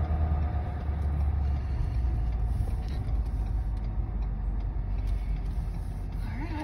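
A truck carrying chicken feet rumbles past near an RV park in the Blairsville area, a steady low road drone holding through the whole passage with faint creaks over it.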